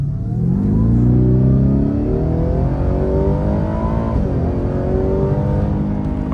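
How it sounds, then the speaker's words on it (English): A Ford F-150 Raptor R accelerating hard in sport mode, its engine climbing steadily through rising revs with a brief gear-change dip, loud and close with no talking. "That's some really good acceleration."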